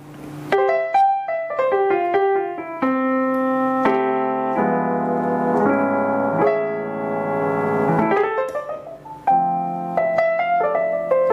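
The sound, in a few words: digital piano playing another voice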